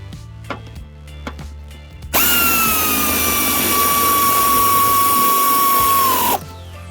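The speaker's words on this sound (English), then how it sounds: "And then very gently with your power tool. Oh, helps to have the air hooked up." A high-pitched pneumatic tool driving screws on a John Deere LA175 mower deck whines steadily for about four seconds, loud and close, after a few faint clicks and knocks.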